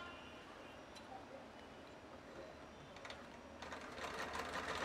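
A 4-in-1 sewing machine stitching during a demonstration: a quiet, steady mechanical whir with a faint ticking rhythm, rising slightly toward the end.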